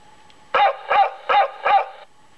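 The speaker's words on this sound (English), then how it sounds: "We have a dog that barks." Four evenly spaced electronic dog barks come from a Tyco Freight Unloading Depot model railroad accessory, each short and clear, with quiet between them.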